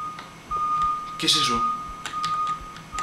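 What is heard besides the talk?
alarm beeping in the video game Mind's Eye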